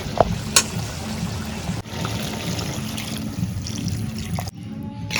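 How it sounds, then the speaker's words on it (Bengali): Water pours steadily into a fish curry pot of pointed gourd on a clay stove, a gurgling, splashing rush briefly interrupted by a knock, then continuing before cutting off near the end. "এখন ঝোলের পানি দিয়ে দেবো"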